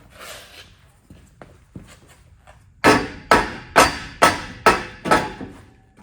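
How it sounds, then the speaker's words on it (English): A hammer striking scrap-built exhaust parts on a 1981 Mazda RX7 fitted with an eBay header and Borla muffler: a few light taps, then six loud, evenly spaced metallic blows close up. "It's just time to get the hammer out."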